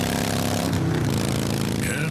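Motorcycle engine droning steadily and loudly throughout, with a radio commercial's voice faintly under the engine noise.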